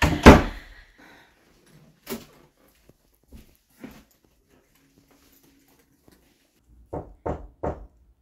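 Sharp knocks at the front door of a home: a few isolated raps early on, then a clear, close burst of three quick knocks near the end, with quiet gaps between.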